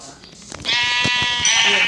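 Sheep bleating in Minecraft Pocket Edition on a phone, one drawn-out, nasal digital bleat that rises and holds for over a second, with a voice talking faintly underneath at the start.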